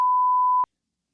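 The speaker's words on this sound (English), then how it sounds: "Off the record, beep it out." A single steady censor beep, a sustained pure tone lasting about half a second at moderate loudness, bleeping out a name, followed by silence.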